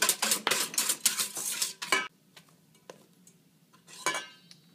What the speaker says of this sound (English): you just want to stir that with a wooden spoon until all the lumps are out